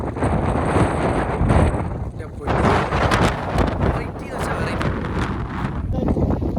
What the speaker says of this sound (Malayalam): കാറ്റ് എന്ന് വെച്ചാൽ അന്യായ കാറ്റാ, ഒരു രക്ഷയില്ലാത്ത കാറ്റ്